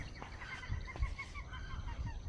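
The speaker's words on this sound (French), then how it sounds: "Il y a les cacatoès." Harsh, raucous cockatoo calls repeat over a busy outdoor background, with scattered squawks and a low rumble throughout.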